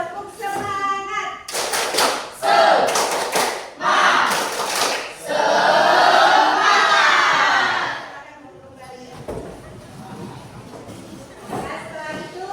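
A standing school class performs a rhythmic spirit clap together, loud patterned bursts of claps and slaps mixed with shouted chanting, then the room settles into quieter murmuring and a few voices.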